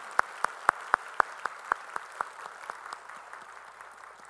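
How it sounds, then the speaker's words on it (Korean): About ten sharp, evenly spaced claps ring out in a steady rhythm from a Sunday church service congregation giving glory to the Lord, then they fade into quiet room tone. "우리 찬양 받으실 주님께 영광의 박수 올리겠습니다"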